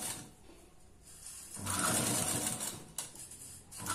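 A sewing machine stitches piping cloth, running in a loud mechanical rattling burst between quieter pauses, close by, with no talk.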